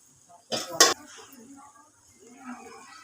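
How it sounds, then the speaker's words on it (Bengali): Pieces of bhola fish dropped into a cooking pan for mustard-paste curry, giving two short close clattering bursts of metal and splashing, followed by quiet kitchen rustle. "এবার আমি মাছগুলো দিয়ে দেবো।"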